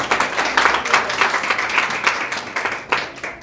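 Church congregation claps for the Lord during a sermon on testing of faith, a lively, rhythmic round of many hands with distinct accented beats, close and steady across the whole stretch.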